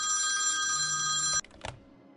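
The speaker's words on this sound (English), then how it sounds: "It's the other phone which is ringing" A telephone rings with a loud, continuous electronic trill that stops abruptly, followed by a brief clatter as it is picked up.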